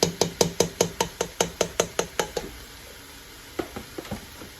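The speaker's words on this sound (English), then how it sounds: "So we're going to add that in. Give it a stir." Chopped fresh zucchini stirred into a pot of homemade vegan vegetable soup: about a dozen quick, evenly spaced spoon knocks against the pot, close and clear, then a pause and a few scattered taps near the end.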